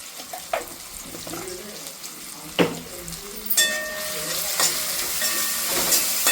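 Turmeric frying in a pan for a mataki aamti, a soft steady sizzle with the scrape and knock of a spoon stirring, a few sharp clanks against the pan, close with no talking.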